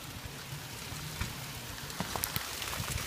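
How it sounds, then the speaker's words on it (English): Hail pelts down outside in a dense, steady patter of small icy pellets, grainy and continuous, with a few sharper ticks of stones striking hard surfaces close by; no one talks. "Oh my god, it's hailing like crazy!"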